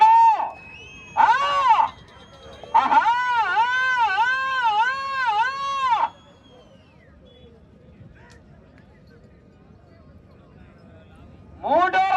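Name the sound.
crowd whistling and shouting at a bull race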